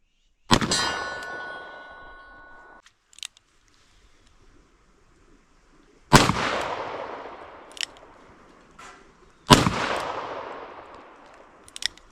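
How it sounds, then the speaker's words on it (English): Three loud, sharp shots from a Smith & Wesson 686 Plus revolver firing .38 Special rounds, each followed by a ringing decay and echo, spaced several seconds apart outdoors. "Shooting 38 Special is a real pleasure out of a gun like this because there's not much recoil at all."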